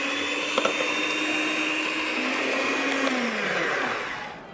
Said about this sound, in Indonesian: Kita kocok di kecepatan tinggi sampai mengembang.